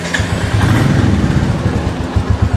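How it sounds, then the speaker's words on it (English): A 2021 Royal Enfield Classic 350 motorcycle engine runs close and loud, a steady low thumping idle with a pulsing single-cylinder beat that rises slightly toward the end. "let me crank this motorcycle up for you guys."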